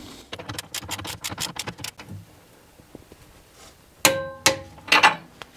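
Tools working on the hub carrier bolts of a Tesla Model 3 during a hub carrier replacement, with the large lower bolt torqued to 115 Nm. A cluster of quick metallic taps and ratchet clicks comes first, then a few loud, sharp clanks close by.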